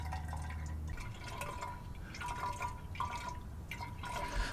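Coolant draining from the driver's side of a 100 series Toyota Land Cruiser radiator: a faint, continuous trickle and drip of liquid with a low background hum, no voices.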